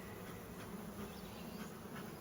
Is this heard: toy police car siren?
no